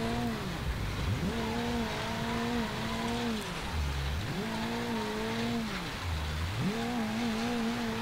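Damaged front-wheel-drive car in BeamNG.drive, its engine note rising and falling through repeated revs and gear changes, loud and steady over a gritty background, with no talking.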